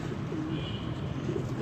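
A pigeon coos on a rooftop, soft and steady against a noisy background hum; the bird is a prized flying pigeon kept by a hobbyist.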